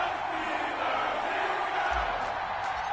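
Stadium crowd in an EA Sports NFL video game ahead of a New England Patriots versus Pittsburgh Steelers matchup: a steady, broad roar of cheering fans with a low thump near the end.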